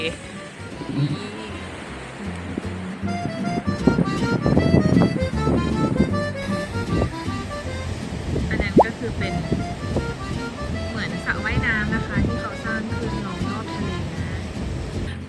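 Sea waves wash against the coast at Keelung, Taiwan, on a rainy, windy day: a continuous broadband surf roar with wind buffeting, and faint voices in the background.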